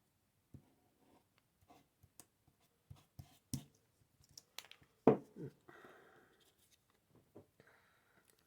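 Ink being applied to craft card with a pen or tool during a papercraft project: sparse, quiet taps and short scratchy strokes scattered irregularly, with a couple of louder rustles in a near-silent room.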